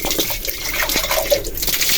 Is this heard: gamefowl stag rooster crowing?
no